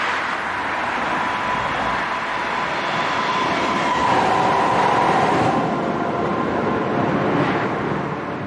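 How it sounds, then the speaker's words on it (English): A westbound rail train rolling along as an audiobook sound effect, a steady, loud continuous rumble and rushing hiss with no breaks, swelling slightly midway like a passing car or carriage noise. "As night closed in, he and Akana boarded a westbound rail train"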